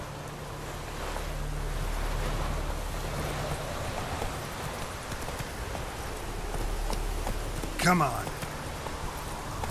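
Roach the horse's hooves clip-clopping at a steady gait in The Witcher 3: Wild Hunt, over a wash of surf and wind, with a voice speaking briefly.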